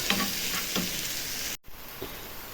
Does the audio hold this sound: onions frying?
yes